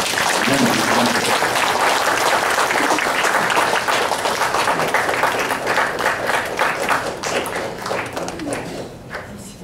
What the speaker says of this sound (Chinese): 来给大家拍掌，谢谢